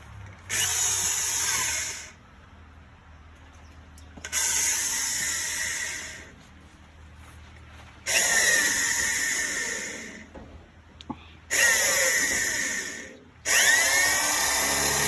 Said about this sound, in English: All right, drill.